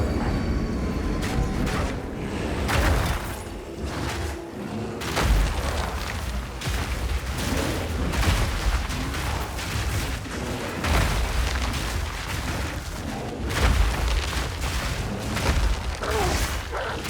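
Explosions during Path of Exile 2 gameplay, a dense run of overlapping booms and bursts over a continuous roaring rumble. They are loud and sustained through the whole stretch, with little speech.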